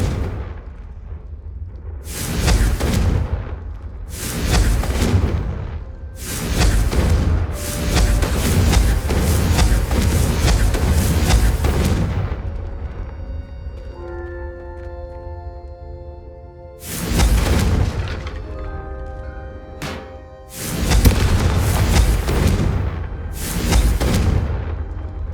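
Confringo blasting spells from Hogwarts Legacy go off as a series of loud, booming explosions. Some bursts come in quick succession and others are spaced apart, with rumbling tails and brief tonal magical effects between the blasts.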